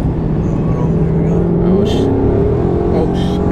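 A 2018 Ford Mustang GT 5.0 V8 making 660 horsepower accelerates hard, its loud engine drone rising steadily in pitch from inside the car, with brief bursts of voice over it.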